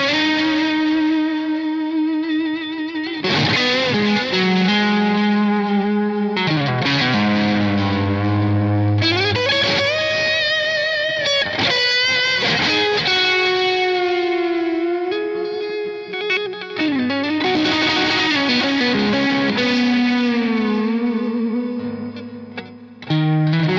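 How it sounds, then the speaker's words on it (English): Overdriven electric guitar lead through a Source Audio Collider digital delay with hall reverb, sustained distorted notes and bends trailing echoes and a wide wash of reverb, loud and continuous with no talking. "and there I have a digital delay and hall reverb,"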